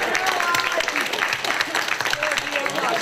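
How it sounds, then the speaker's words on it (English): Audience applause at a convention discussion panel, a steady dense wash of many hands clapping for about three seconds without letup. "Give a round of applause for"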